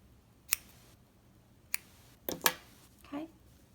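Scissors trim the leftover crochet yarn ends on a knitted owl hat: a few quick, soft snips spaced apart, with a closer double cut near the middle, quiet and close with no talking.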